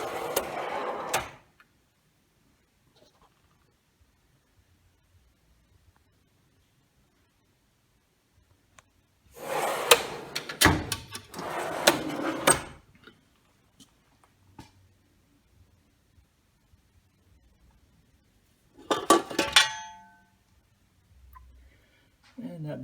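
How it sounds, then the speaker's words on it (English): Drawers of a Snap-on mechanic's toolbox slide open and shut in three separate bursts of rolling metal rattles and clunks, with quiet pauses between them. "I'm just going to open them and let you see them."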